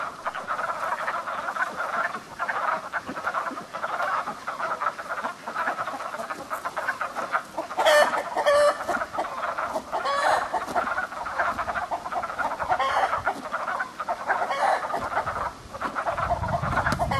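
Frogs croak steadily in a spring chorus while chickens cluck and a rooster calls, a dense, continuous mix of outdoor farmyard and pond sounds with no talking.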